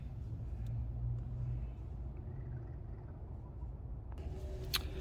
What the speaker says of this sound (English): start the van up